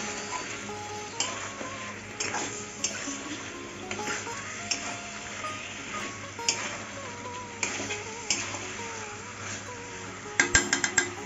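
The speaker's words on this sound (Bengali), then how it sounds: "এখন সব মশলা দিয়ে ভালো করে নাড়িয়ে চাড়িয়ে কষিয়ে নেব।" Mutton curry with spices being stirred in a pot: repeated scraping and clinking of a utensil against the pot over a steady sizzle, with sharper metallic knocks bunching near the end.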